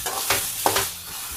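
Fresh pigeon pea seeds roast in a wok, giving a soft crackling sizzle with a couple of brief stirring scrapes, close and fairly quiet.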